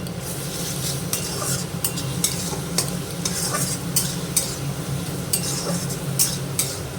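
Garlic paste fries in a pan with a steady sizzle as a utensil scrapes and stirs through it, ticking against the metal in irregular strokes.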